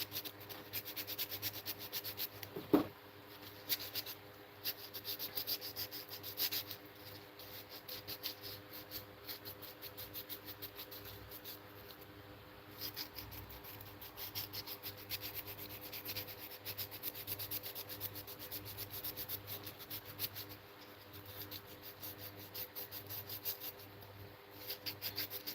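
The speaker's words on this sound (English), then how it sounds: "Been sanding these, as you can see by the pile of sawdust here" Sanding wooden hoop earrings by hand, a faint steady scratchy rubbing in short repeated strokes that continues throughout, quiet and close with no talking.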